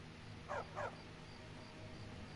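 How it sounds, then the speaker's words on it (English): A dog in the Skyrim video game gives two quick barks close together, faint and short against a steady low game ambience. "There's a doggy."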